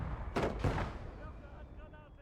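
Mortar and artillery fire in the WWII strategy game Gates of Hell: Ostfront, with a mortar lobbing white phosphorus rounds: two sharp, heavy booms in quick succession, then a rumbling tail fading under a faint tonal background.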